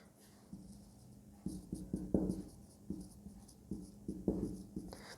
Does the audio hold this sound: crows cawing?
no